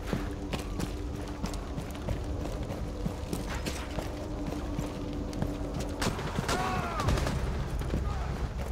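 Gunfire through a wall in Rainbow Six Siege on the Consulate map, a dense run of muffled shots and clattering impacts continuing over several seconds with a brief burst of debris near the end.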